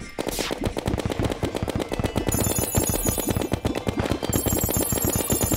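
An ice golem enemy in the Terraria video game fires rapid bursts of projectiles at the player, a dense, loud rat-a-tat volley of game shots continuing without pause over the whole stretch, with no voices.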